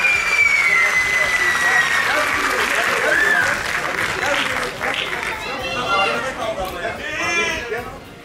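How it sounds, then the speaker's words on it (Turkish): A crowd applauds athletes at a sports festival, steady clapping under chatter, with a high tone sweeping across and bleat-like calls near the end. "sporcularımıza bir alkış alabilir miyiz?"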